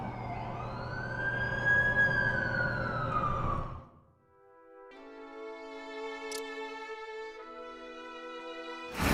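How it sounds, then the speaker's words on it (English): An ambulance siren in The Amazing Spider-Man 2 game wails loudly in a rising, sweeping tone for about four seconds, then shifts to a steadier, multi-toned electronic siren pattern that continues to the end. "That's the ambulance I called."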